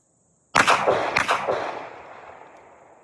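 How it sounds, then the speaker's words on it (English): A Colt pistol fires a quick string of about three sharp shots, the reports close and loud, followed by a long fading echo across an outdoor range, no talking. "Now I'll run it with the Colt to begin with."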